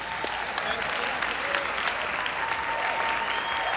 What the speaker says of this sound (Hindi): एक बार जोरदार तालियों के साथ सुदीप का स्वागत करें